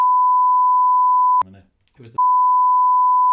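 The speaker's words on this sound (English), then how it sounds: "people just heard a big beep over that." A loud, steady electronic censorship bleep tone plays over speech, cuts out briefly for a few spoken words, then resumes at the same pitch.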